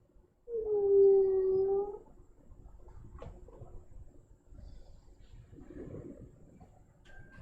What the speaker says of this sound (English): She didn't want me to be distracted by the sound of whales.